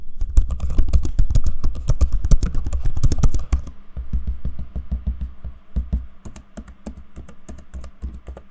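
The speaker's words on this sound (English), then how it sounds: "I'm going to give you a quick sample of the keyboard and trackpad in use so you can hear what they sound like" Fast, dense typing on an HP ZBook Fury G10 laptop keyboard, crisp close clicks in a rapid stream, then sparser lighter taps and clicks that fit trackpad use, with no talking.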